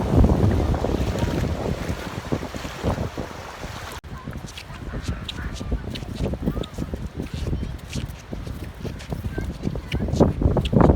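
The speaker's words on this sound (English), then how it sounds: "It's windy here." Gusty wind buffets the microphone in loud, rumbling blasts at a lake beach in Utah, with water and open-air noise behind and a voice speaking briefly.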